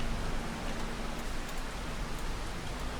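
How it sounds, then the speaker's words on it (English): Cold rain falls in Farming Simulator 25 as a steady, even hiss of drops that fills the whole stretch without pause, with no voices over it. "You can just feel how cold this rain is"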